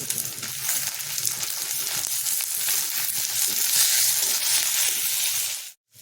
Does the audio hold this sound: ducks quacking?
no